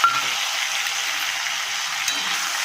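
Sliced elephant apple (chalta) dropped into hot oil for a sour prawn-head dish sets off a steady, loud sizzle that fills the whole moment with an even hiss and one brief spike partway through.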